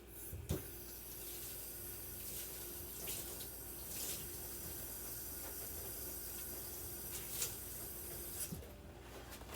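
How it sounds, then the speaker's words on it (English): A sponge rinsed under a running kitchen sink tap: a steady, quiet hiss of flowing water with occasional faint clicks and squeezing sounds, continuous and low in level, with no talking. "like to wash off my sponge every now and then in the sink"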